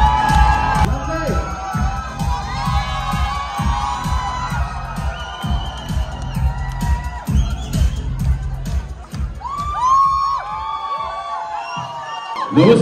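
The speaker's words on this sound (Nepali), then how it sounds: "जोरदार ताली ताली मारो के भाई" A live crowd at a Nepali community program in the DC area cheers, whoops and shouts loudly, with rhythmic clapping underneath, a steady roar that swells again near the end.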